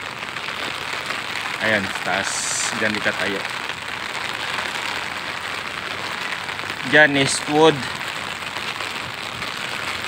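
Heavy rain pours in a steady, dense hiss beside a riverside in Pasig, with a voice speaking briefly over it.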